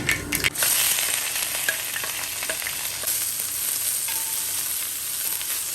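Onions, crushed ginger-garlic, green chillies and curry leaves fry in hot oil with a pinch of salt for a mutton and potato curry, a loud, dense, continuous sizzle that opens with a few stirring clatters.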